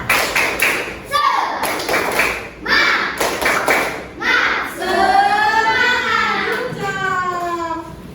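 Children in a classroom coding and artificial intelligence lesson perform the rhythmic 'tepuk semangat' clapping chant, with sharp patterned claps and thumps followed by sung, chanted voices, loud and close.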